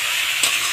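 Young jackfruit fries in a pan with chili powder, ginger paste and cumin paste, giving a steady, loud sizzle with a brief stirring scrape partway through.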